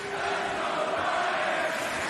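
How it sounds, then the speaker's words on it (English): Wrestling arena crowd at Bryan Danielson vs Jake Hager, a dense steady roar of many voices with a faint chant-like swell, loud and continuous throughout without any commentary on top. "I was just listening to the crowd chanting, let's go, Bryan."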